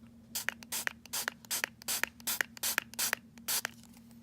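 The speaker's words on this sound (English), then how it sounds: "So I'm just gonna spray a couple of times just to clean it." About nine short, even hisses of degreaser spray in quick, regular succession as a baitcaster fishing reel is cleaned. The bursts are close and crisp, with no talking.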